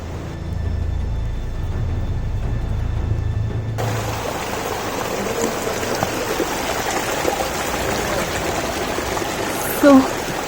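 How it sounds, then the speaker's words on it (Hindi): Water welling up from underground near Lamayuru in Kargil, Ladakh, rushes in a continuous broadband flow that starts abruptly partway through and holds steady, close and fairly loud. "ये पानी ज़मीन के अंदर से आ रहा है"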